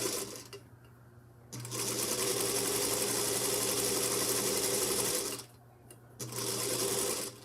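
A sewing machine stitches fabric in two long, steady runs of loud whirring, each stopping abruptly with a short quiet gap between them.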